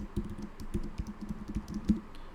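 Rapid clatter of keys as terminal commands are typed on an Apple M1 Mac keyboard, steady close-up tapping with a few louder keystrokes, no voices.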